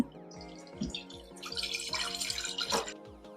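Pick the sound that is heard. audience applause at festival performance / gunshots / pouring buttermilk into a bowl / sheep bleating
pouring buttermilk into a bowl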